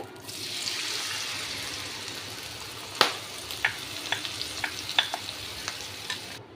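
A thick jackfruit halwa mixture made with puffed rice and roasted gram sizzles softly in a pan as a spoon stirs it, a firm scrape followed by a run of quick light clacks over a steady low hiss.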